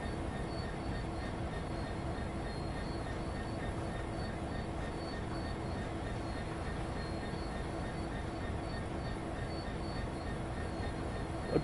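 A train in the Train Sim World 5 game runs near London Euston with a steady, dense rumble and rolling wheel noise that continues evenly throughout, with no clear breaks.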